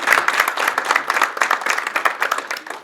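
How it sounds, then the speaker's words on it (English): Audience applause fills a room at a Baltimore County Chamber of Commerce monthly breakfast, a steady, dense wash of many hands clapping at close range for nearly three seconds without letting up. "Please give them a round of applause."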